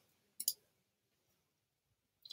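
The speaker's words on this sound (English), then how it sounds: "So I will click on it." Computer mouse clicks: two crisp, close clicks in quick succession, then near-silence and another short pair of clicks at the end, with no talk.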